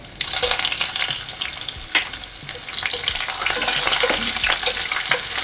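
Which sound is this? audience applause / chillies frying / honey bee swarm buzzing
chillies frying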